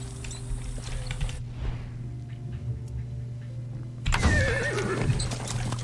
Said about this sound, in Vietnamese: Gọi con ngựa đi cho nó đỡ khổ.